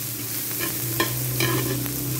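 Garlic, onion and ginger sautéing in oil for native chicken tinola, giving a steady close sizzle with a few sharp stirring scrapes and utensil taps over about two seconds.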